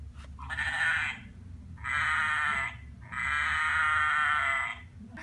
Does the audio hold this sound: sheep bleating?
yes